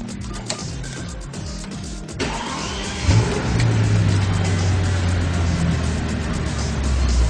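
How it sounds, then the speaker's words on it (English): A Bentley Continental GT replica fires up from its electric push-button start. Some clicks and a brief whir give way to the engine catching and settling into a steady, close idle hum. "let's just see if this car can start with the electric button system and see if she"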